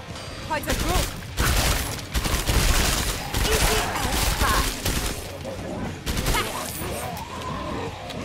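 Rapid gunfire in Killing Floor 2 on a farmhouse map, loud bursts of automatic shots in repeated volleys separated by short gaps, mixed with impacts and crashes in a chaotic close-up fight.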